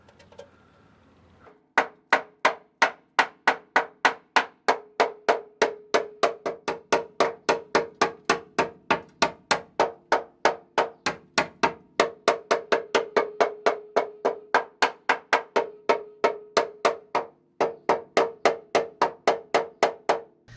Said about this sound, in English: I've given the chassis a right good tapping all around